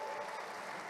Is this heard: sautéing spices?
no